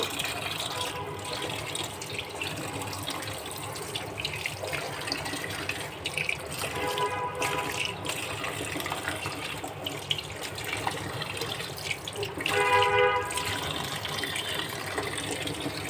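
Tap water runs steadily over cut fish pieces being rinsed in a sink, a continuous close splashing flow with small surges and drips, no talk.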